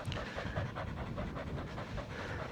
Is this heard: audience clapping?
no